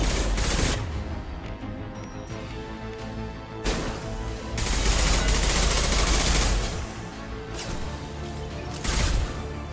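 Rifle gunfire in a Mass Effect 2 firefight, repeated loud bursts of rapid shots with crashes and impacts, a few dense volleys swelling and fading, with no talk.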